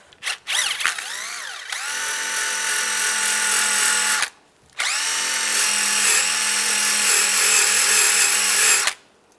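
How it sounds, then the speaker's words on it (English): A power tool spins a wire brush against the fog light mounting area of a 2014-2019 Toyota Corolla: two sustained high whirring bursts, each spinning up with a rising pitch, separated by a brief pause. "Just take a wire brush to clean that up a little bit."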